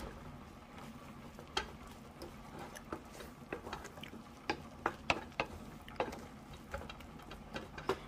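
Biko with bukayo being stirred in a pan, a spoon knocking and scraping against the metal in irregular clicks over a soft sizzling, cooking bed, close and moderately quiet.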